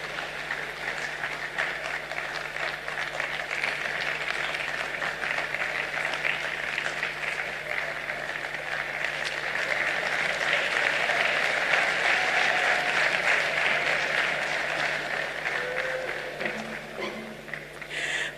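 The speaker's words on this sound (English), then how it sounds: "Please welcome her with a round of applause." Sustained applause from a large audience welcoming a keynote speaker fills the space, swelling in the middle and fading toward the end, steady and unbroken.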